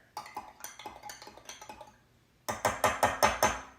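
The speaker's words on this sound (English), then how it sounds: "And I like to give it a good stir" A spoon clinks steadily against a glass or bowl while stirring vinegar into milk, a quiet run of light taps followed by a louder, quicker series of clinks, with no voices.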